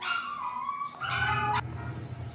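A nearby dog gives drawn-out, high whining yelps and howls in two stretches, loud and close, with no talking.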